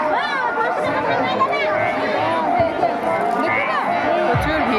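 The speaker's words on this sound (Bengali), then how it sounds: "প্রচুর ভিড়।" Dense crowd chatter fills a busy Maha Shivratri fair beside a decorated, lit-up temple with jalebi and papad stalls, a steady close babble of many overlapping voices throughout.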